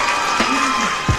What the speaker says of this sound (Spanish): Un aplauso, pastora